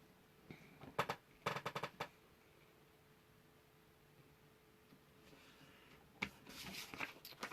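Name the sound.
paper card being folded forward and backward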